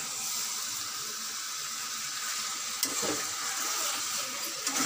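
Meat cooking in a pan, a constant close sizzle with one brief stirring scrape partway through and another near the end.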